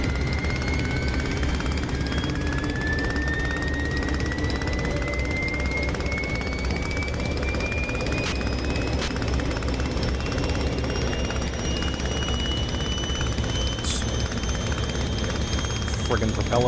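A Sopwith Camel's rotary propeller engine drones loud and steady in the DCS flight game, with a whining tone that climbs slowly throughout and a few sharp clicks near the end.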